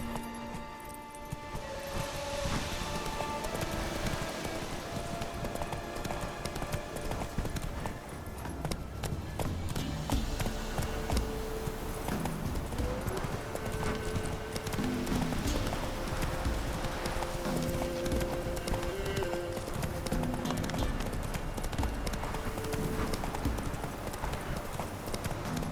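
Horse galloping in The Witcher 3 video game: steady rapid clip-clop hoofbeats running throughout, close and prominent, with game music and ambient sound underneath.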